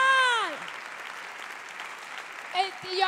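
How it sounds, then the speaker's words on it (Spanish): Moderate crowd applause at a television awards gala in Pamplona fills the space between a woman comedian's speaking at the start and end. "¿Dónde están los aplausos?"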